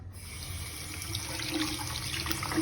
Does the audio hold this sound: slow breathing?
no